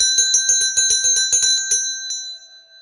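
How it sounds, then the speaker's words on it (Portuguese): Notification bell sound effect: a bright, close bicycle-style bell rings in rapid repeated strikes, about ten in a row, then a final ding that fades out. "Aciona o sininho das notificações"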